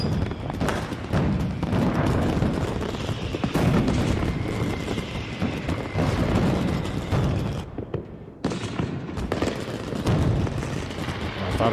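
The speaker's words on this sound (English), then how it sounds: "let me go set off every other firework we've got over here" Fireworks go off in quick succession, dense popping bursts and booms that keep layering over one another, fairly loud throughout, with a brief lull just before the end.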